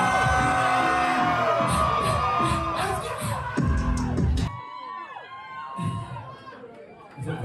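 A large crowd at the 100 Club in London cheers and whoops loudly, a dense roar of shouting voices that drops off partway through to lighter cheers and scattered shouts.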